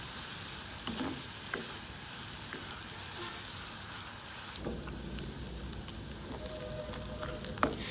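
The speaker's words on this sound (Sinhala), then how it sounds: "හාල් මැස්සෝ වල රන්වන් පැහැයෙනකම්ම අපි මේක බැද ගන්න ඕනේ." Anchovies deep-frying in hot oil until golden, a dense close crackling sizzle with occasional sharper pops and stirring scrapes throughout.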